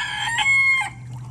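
A chicken gives a loud, close crow that blends into clucking, with a low steady hum beneath it, at an outdoor setup for processing quail.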